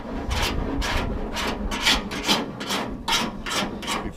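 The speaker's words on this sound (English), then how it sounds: "I'm going to take a cheese grater bondo file. Take a layer of this off." A cheese grater bondo file rasps back and forth over body filler on the smashed front end of a 1969 Chevy van, about nine loud, rhythmic scraping strokes close up, with no one talking.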